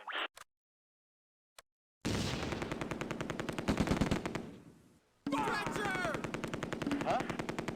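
MG42 machine gun from the Close Combat game set at Groesbeek during Operation Market Garden: a short clicky start, then loud sustained ripping bursts of automatic fire, a brief gap, and another long burst.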